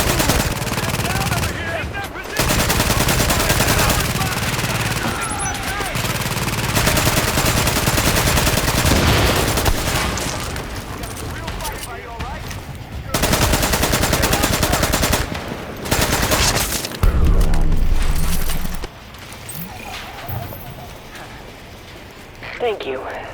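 Turret gunfire in The Division rattles out in long rapid bursts separated by brief pauses, loud and close, with voices speaking in between.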